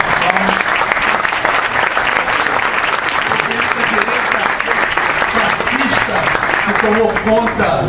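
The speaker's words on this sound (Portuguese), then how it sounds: "E eu quero pedir uma salva de palmas." At a left-wing political rally, a crowd gives loud, sustained applause that fills the hall as a continuous dense roar of clapping. Scattered voices and cheers are mixed in toward the end.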